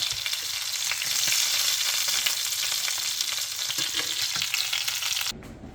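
Chicken pieces fry in a pan with a loud, steady, close-up sizzle that holds evenly and then cuts off abruptly just before the end.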